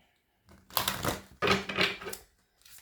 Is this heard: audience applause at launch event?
no